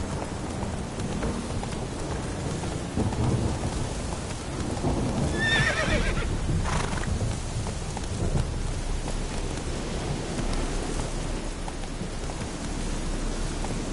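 Roach, the horse in The Witcher 3, lets out a brief neigh midway through a steady roar of rain and rumbling, with hoofbeats faintly mixed into the noisy background.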